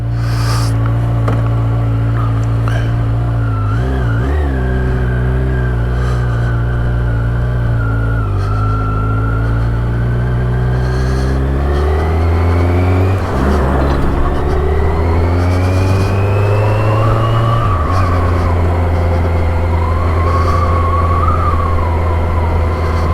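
Kawasaki motorcycle ridden on the road to Colchester, its engine droning steadily and loud throughout, pitch rising and falling with gear changes and throttle, with wind rush and no talk.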